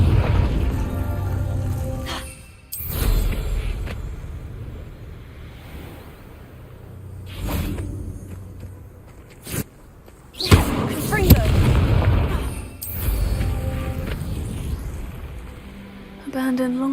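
A Confringo blasting spell from the game Hogwarts Legacy bursts in sharp, booming blasts, several loud hits scattered through the stretch over a low windy rumble, with short game sounds between them.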